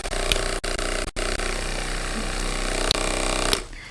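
A mains-powered unisex vibrator with an ergonomic handle, six speeds and a motor reaching 5,000 rpm hums with a steady, close, buzzing whine, broken by a few brief dropouts before it cuts off near the end.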